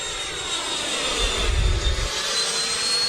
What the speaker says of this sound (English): Look at that afterburner go